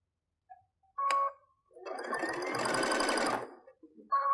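A sewing machine stitches patchwork fabric for Christmas stockings in a short, loud burst of rapid mechanical clatter, with brief lighter clicks of the machine before and after the run.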